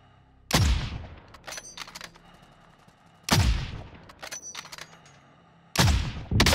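Gunfire in Modern Warfare Plunder mode, three loud, sharp shots spaced about three seconds apart, each followed by ringing echoes and fainter scattered pops in the distance.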